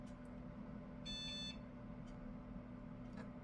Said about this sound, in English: with its classic 2-beep post-beep.